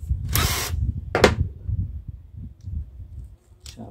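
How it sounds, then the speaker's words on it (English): A power drill with a pilot bit buzzes in short close bursts while drilling holes, a longer run then a quick one, between low clunks and handling noise. "Now I'm going to first round with the pilot drill again."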